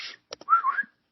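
A person whistles a short melodic phrase, starting with a couple of quick breathy chirps and then a clear rising-and-falling sustained tone, close and fairly loud, with nothing else heard.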